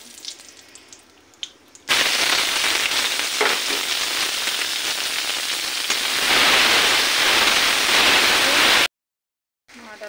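Bay leaf, cinnamon, clove and cardamom hit hot oil in a kadai for a paneer vegetable dish: a sudden loud hissing sizzle bursts in after a quiet start and holds steady and close, with a brief cut near the end.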